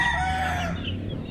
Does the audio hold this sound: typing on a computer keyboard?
no